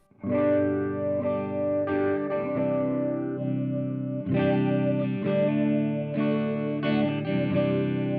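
An electric guitar plays sustained chords and notes through an MXR Phase 90 phaser pedal, the tone swirling as each chord rings out.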